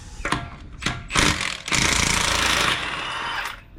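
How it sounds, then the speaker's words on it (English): An impact wrench hammers off lug nuts on a Honda wheel in short bursts, followed by a longer rattling run as a nut spins free. "so let's remove the lug nuts."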